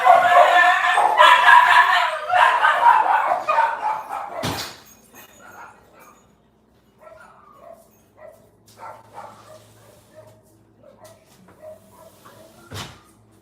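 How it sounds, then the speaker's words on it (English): Several house dogs barking and yelping excitedly in reaction to a squealing neighborhood dog, loud and close in a rapid burst for about four seconds, then fading to scattered faint yips and shuffling. "There's a neighborhood dog that has a squeal, and when it squeals, my dogs, you just gotta let them go."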